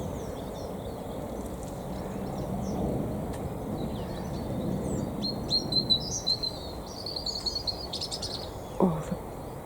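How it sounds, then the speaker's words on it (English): Several songbirds chirp and trill in a kitchen garden over a steady outdoor hum, bright twittering phrases bunching together in the second half, with one short low thud near the end. "Oh, the birds are so happy today."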